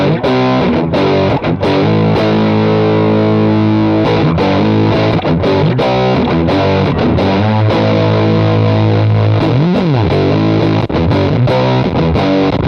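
An electric guitar on its humbucker pickup plays through a Fuzzdrive distortion pedal, giving thick, saturated sustained chords and a bent note, loud and continuous with no talking.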